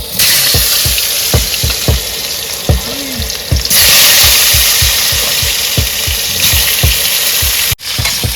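Food frying in hot oil in a pan gives a steady, loud sizzling hiss. Repeated low thumps run through it, and the sizzle grows brighter for stretches in the middle.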